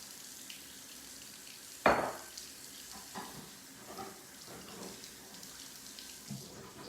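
Plant-based meatballs sizzle in a pan beneath a steady wash of frying noise, with a sharp clatter early on and faint stirring sounds after.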